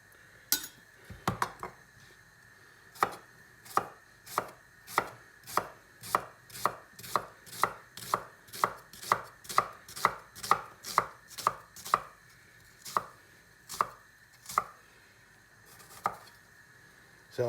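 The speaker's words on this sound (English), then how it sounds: "And then chop it as fine as you can" A knife chops an onion finely on a board for salmon risotto, about twenty-five crisp, evenly spaced thuds that speed up in the middle and then slow, close and clear with no talking.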